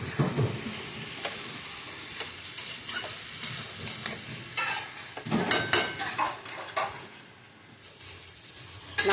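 Grated coconut being stirred into a vegetable curry in a pan, with scattered scraping clinks of a spoon against the pan over a faint sizzle, fairly quiet and close.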